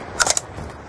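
A weapon reload in Black Ops 2 gives a quick run of three or four sharp metallic clicks and clacks, fairly close, with a faint background hum and no talking.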